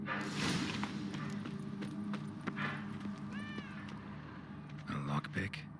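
A cat meows in The Witcher 3, a couple of short rising mewls amid ambient game sounds and footsteps, with voices talking around it.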